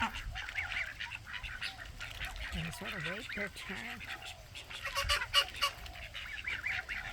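Ducks, turkeys and geese honk and quack during morning breakfast feeding on a farm, scattered calls at moderate distance with a few brief louder honks, under a calm voice.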